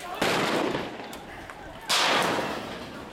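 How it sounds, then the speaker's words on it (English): Tear gas canisters fired at a street protest on Nakba Day in Hawarah, two sharp launch bangs about two seconds apart, each trailing off in a long hissing whoosh, fairly distant and moderately loud. "shooting gas canisters now again."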